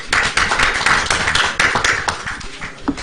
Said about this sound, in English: I think it's only important that we clap for our president and clap for ourselves.